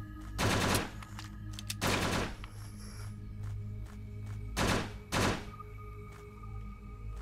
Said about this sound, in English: Let's burst these bullets out.